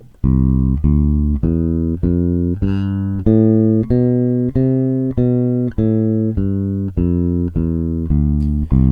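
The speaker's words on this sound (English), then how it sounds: "So a major scale sounds like this." A plucked bass guitar climbs and descends a major scale, one steady note at a time, clear and alone.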